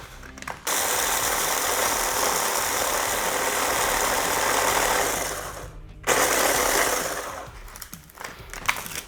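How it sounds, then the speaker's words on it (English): A food processor crushes two packs of graham crackers into crumbs for a smoked cheesecake crust, giving a loud, steady motorized grinding roar. It cuts out briefly around the sixth second, restarts, then winds down at the end. "Get them in your food processor. We're gonna mix them up to get them into a crust-like consistency."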